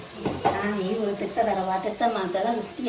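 Small onions (shallots) fry in hot oil with a steady sizzle, close and continuous, while voices talk over it throughout.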